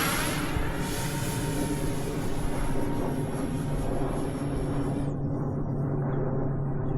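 An RC F-22 Raptor model jet makes low-speed passes, giving a continuous loud rushing roar with a thin high whine that cuts out partway through while the broad roar carries on.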